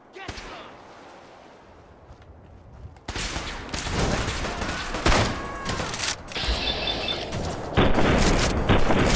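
Gunfire in Fallout 4: rapid, loud bursts of shots and booms fill the second half after a quieter opening, with someone talking over the action.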